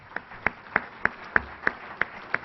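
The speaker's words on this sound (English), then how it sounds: "It's always good to applaud for the corporate folks when you're in my position" Slow, evenly spaced hand claps, about eight crisp separate strikes in a steady rhythm, heard close and without any talking.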